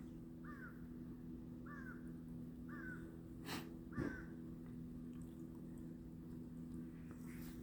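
Big black birds give a series of harsh caws, four evenly spaced calls at moderate distance, with a couple of brief soft thumps and faint outdoor background.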